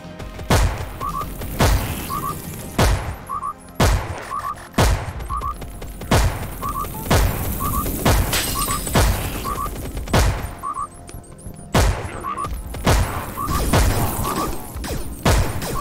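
A pistol fires in the VR game Compound, with a string of sharp, loud shots at a regular pace and short gaps between them.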